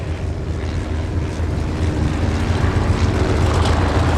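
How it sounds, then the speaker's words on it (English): Vintage propeller aircraft at an air show, a steady loud engine drone that swells slightly as the plane passes, with no talk over it. "There's the L9 Civil Defense, Peter Rafale flying that."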